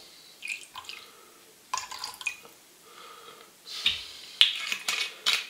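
Rum being measured out to 10 ml for a boilie bait recipe produces faint, scattered drips and small liquid splashes with little clicks, close up and quiet with gaps between sounds.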